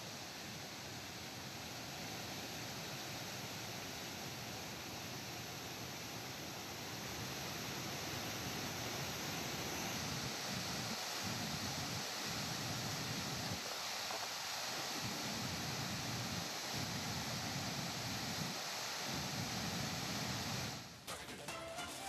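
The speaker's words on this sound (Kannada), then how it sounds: "ಸಿಕ್ಕಾಪಟ್ಟೆ ಮಳೆ ಆಗಿರೋದರ ಒಂದು ಪರಿಣಾಮವಾಗಿ ಈ ರೀತಿಯಾಗಿ ಜಲಪಾತ ಭೋರ್ಗರಿತಾ ಇದೆ" Mookanamane waterfall near Sakleshpur, Hassan, swollen after heavy rain, gives a steady, loud broadband roar that holds unbroken throughout, with no voices, and a brief handling bump comes near the end.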